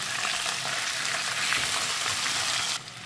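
Chicken sizzles steadily while being stirred over a high flame in Konkani-style home cooking, a dense continuous frying hiss that holds throughout before easing slightly near the end.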